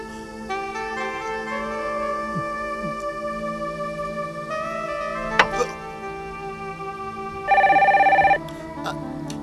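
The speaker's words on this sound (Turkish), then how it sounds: "Sevda Hanım, telefon." Telephone ringing in a home scene from a Turkish TV comedy, a single loud burst of electronic bell tone standing out over a steady background of music and room sound.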